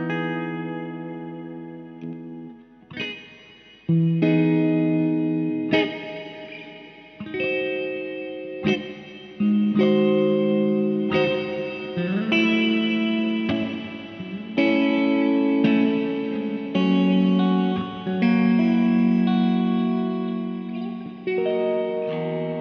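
Electric guitar played through a Caline Barn Owl reverb pedal with the tone set fully dark, sustained chords and single notes ringing with a lush, washy tail, loud and alone with short pauses between phrases.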